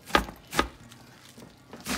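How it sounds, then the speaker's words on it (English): A knife chops tomatoes for a salad on a cutting board, three sharp, close knocks spaced apart with a fainter tap between. "Just cutting the tomatoes."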